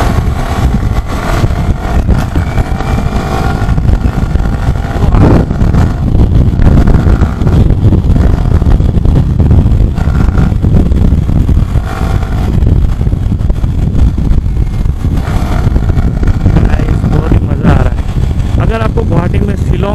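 A Yamaha YZF R15 V3 BS6 155cc motorcycle climbs a steep hill in fourth gear at around 4000 rpm. The engine drones steadily, loud and close, mixed with heavy wind buffeting, while the rider talks throughout.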